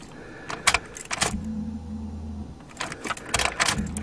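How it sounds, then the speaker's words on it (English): The fuel pump of a 1994 Ford Taurus wagon primes with a low, steady electric hum lasting about a second. Scattered clicks and mechanical clatter from the car come before and after it, and the sound is close and fairly quiet. "the fuel pump is sounding quieter, so sounds like it's sucking gas"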